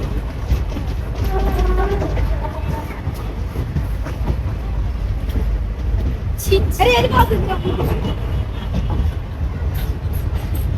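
A train at Nambur railway station rumbles and clatters loudly and continuously, with voices briefly rising above the noise.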